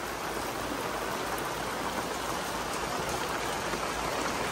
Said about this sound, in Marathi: आताच खूप पाऊस चालू झालेला आहे